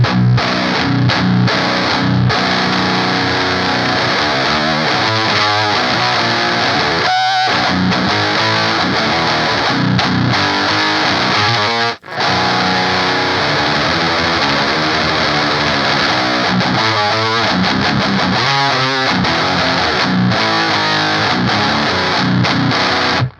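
A heavily distorted metal guitar plays through an HM2 pedal blended with tight distortion, a loud, dense, buzzing tone sustained for the whole stretch with chugging riffs and one brief pause midway.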